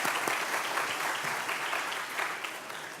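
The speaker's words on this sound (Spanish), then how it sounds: "Pues le queda un aplauso a la doctora" Audience applause for a female doctor after her talk at a statistics conference, a steady, dense wash of many hands clapping at moderate distance, fading slightly toward the end.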